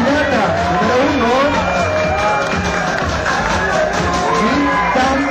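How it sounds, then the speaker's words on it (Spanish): A pageant audience cheers and applauds for contestant number one during a swimsuit competition, a dense, steady wall of whoops, shouting and clapping from a large crowd, loud and continuous throughout. "Fuerte el aplauso para la candidata número uno"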